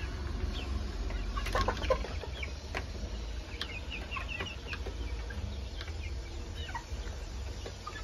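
French chicks and broiler chickens peep and cluck inside a cage, with scattered short chirps over a steady low background hum and no voices.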